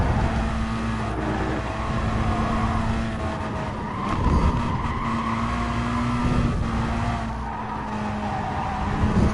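Race car engine in the Gran Turismo Sport FIA GT night race at a seaside track, roaring steadily through the whole stretch with rising and falling revs as it brakes into corners, tires squealing and skidding under the drone.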